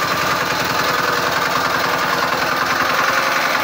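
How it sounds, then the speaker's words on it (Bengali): A newly fitted 170 cc engine runs steadily just after starting, giving a loud, close, even chugging drone with a rapid regular pulse and no voices. "দাদা ইঞ্জিন স্টার্ট এখন কমপ্লিট।"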